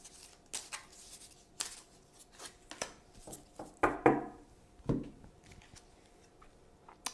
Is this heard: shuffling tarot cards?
yes